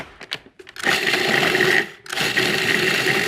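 Food processor pulsing chilled butter cut into quarter-inch pieces into a crumb mixture, a short burst followed by two longer loud whirring runs separated by a brief pause.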